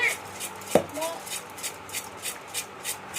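Puffed jowar pops are tossed by hand with chilli powder and salt, giving soft, regular rustling and shuffling pulses, with one sharp knock near the start and a voice briefly in the background.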